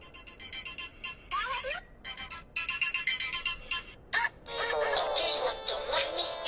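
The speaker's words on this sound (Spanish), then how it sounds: "te hablan por teléfono" Telephone ringtone sounding for an incoming call during a TV news program, a bright electronic tone repeating in short bursts and then a longer ring, with people talking in between.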